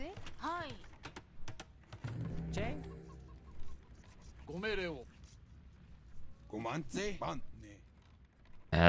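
Chickens cluck repeatedly in a real-time strategy game match, short rising calls scattered among game clicks and interface sounds while a commentator talks over them.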